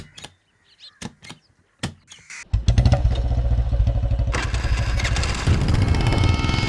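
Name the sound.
motorcycle being started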